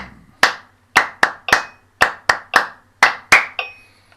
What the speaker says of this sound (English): just clapping that son clave at the same time as the cowbell